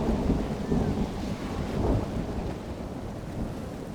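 Rain and thunder in a Total War: Divide and Conquer mod battle, a dense, steady downpour hiss layered with low rumbling thunder that swells early and then settles, with no voices.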